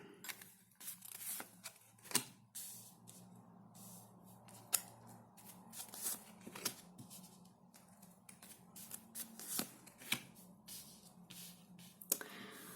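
Tarot cards being shuffled, with soft, faint, irregular flicks and snaps close by, separated by quiet gaps.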